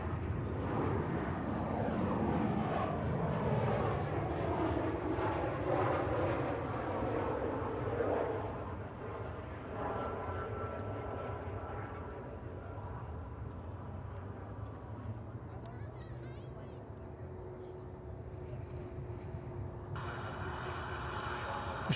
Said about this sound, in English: American Flight 1716 from Durango, Mexico. It's an Airbus A319